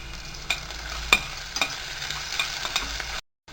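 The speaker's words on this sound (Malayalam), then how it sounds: "ഇതിനെ ഒരു ഗോൾഡൻ ബ്രൗൺ ആവണ വരെ വഴറ്റാം." Soya chunks being sautéed in a pan with a little salt until golden brown for biryani give a soft sizzle with several sharp spatula clicks and scrapes, then cut off abruptly.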